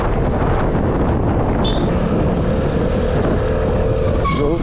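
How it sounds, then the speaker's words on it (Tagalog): A Vespa scooter engine climbs a steep uphill mountain road near Mt. Banahaw in Sariaya, Quezon, a loud, steady drone buried under heavy wind buffeting on the microphone, with no speech. "Masusubukan na naman natin itong Vespa kung gaano kalakas umahon."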